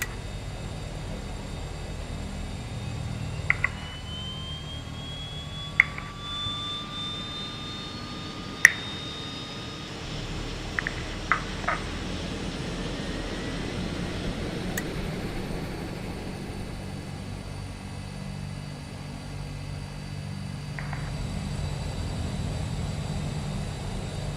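DHC-6 Twin Otter second engine spooling up in Microsoft Flight Simulator over a steady running-engine drone. A faint rising whine builds gradually, with several sharp cockpit switch clicks scattered through it and no speech.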